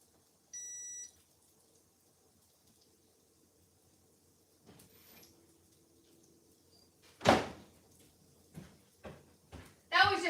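An appliance gives a short electronic beep after a fuse is reset, a brief tone near the start, followed by quiet room tone and several sharp knocks and thuds like a door or cupboard.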